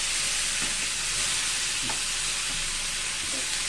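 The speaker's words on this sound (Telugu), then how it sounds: "ఇప్పుడు దీంట్లో మనం కందులు వేసుకున్నామండి. ఒక్కసారి మంచిగా కలుపుదాము." Boiled pigeon peas are stirred in a pan under a steady, loud sizzling hiss, with soft scraping strokes faintly audible beneath it.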